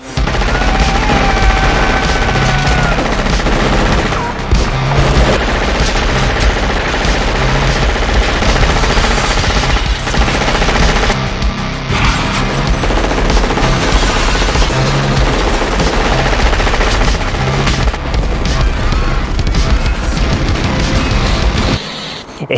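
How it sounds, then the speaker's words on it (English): Machine gun firing in long, loud, dense bursts with only brief pauses between them, a continuous rapid clatter of gunfire. "Now I have a machine gun."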